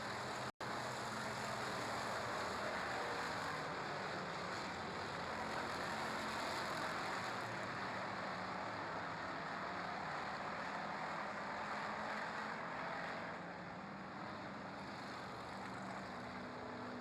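Pure Stock cars racing a feature event on a speedway make a loud, continuous broadband engine roar that holds steady for the whole stretch and eases slightly near the end.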